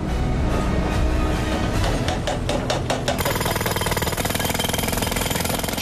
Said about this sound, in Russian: Четыре мощных отбойщика разбивают покрытие площадки размером в два теннисных корта